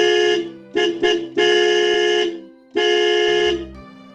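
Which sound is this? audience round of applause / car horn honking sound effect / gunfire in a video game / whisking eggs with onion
car horn honking sound effect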